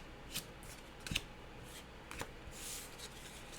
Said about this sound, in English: Shuffle our remaining play deck.